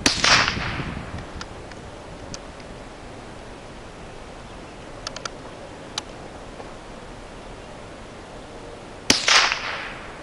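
A .22 long rifle firing Federal 31 grain copper-plated hollow point rounds outdoors: two loud, sharp cracks about nine seconds apart, each with a short echoing tail, and faint clicks from handling the gun in between.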